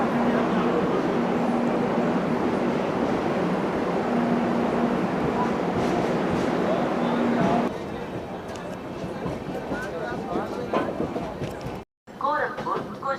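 A train pulls out of a railway station in Mirzapur district, Uttar Pradesh, after a two-minute stop; a loud steady rumble with a droning tone runs under a voice, then drops away to quieter station ambience and talk.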